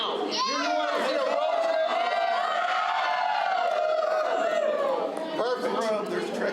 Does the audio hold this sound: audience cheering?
yes